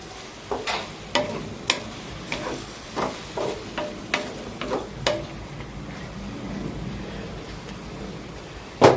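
Cabbage and carrot stir-frying in a pan, with repeated scraping strokes of a spatula over a steady sizzle, close and fairly loud, ending in a brief louder clatter.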